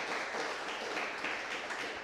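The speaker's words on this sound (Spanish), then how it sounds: "está bueno que le demos un aplauso a Débora" An audience at a medical society conference gives a steady, even wash of applause, fairly quiet and sustained throughout with no clear break.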